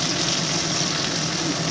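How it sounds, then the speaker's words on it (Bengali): Onions sizzle steadily in a hot pan while chili paneer is cooked, a dense, even frying hiss holding at the same level throughout with no voices. "এখানে অনিয়নগুলো ফ্রাই হয়ে গেছে"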